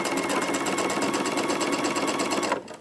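A sewing machine stitching quilt pieces runs in a steady, fast rhythmic whir, close and continuous, then stops abruptly near the end.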